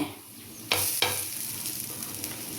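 Banana stem adai, small flattened pieces frying in a pan, give a steady close sizzle throughout, with two sharp louder bursts near the start as the cakes are flipped or shifted.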